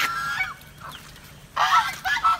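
Silkie and Polish chickens in a flooded food forest give several harsh, honking squawks: one at the start, a fainter call midway, then a louder, closer burst of calls near the end, with no talking.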